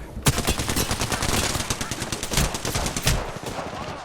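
Rapid automatic gunfire from the Apex Legends video game rattles in dense bursts, loud and close, with a few sharper single shots standing out.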